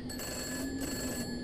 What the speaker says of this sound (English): And the phone's ringing like it did last time.